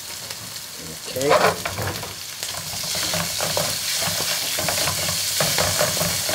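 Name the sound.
chicken stir-frying with tomato puree and oil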